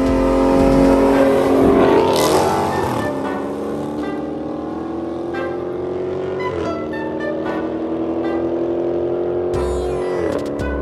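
A Camaro ZL1 and a tuned Jeep SRT Scat Pack race, loud engine drones rising and shifting in pitch through several gear changes, strong at first then holding steady over about eleven seconds.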